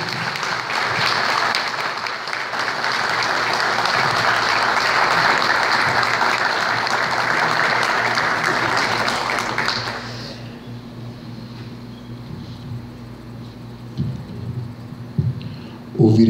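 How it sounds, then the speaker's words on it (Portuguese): Sustained, full applause from the audience at a university ceremony, steady and loud for about ten seconds before stopping, leaving quiet room tone with faint scattered noises. "uma sonora e eterna salva de palmas"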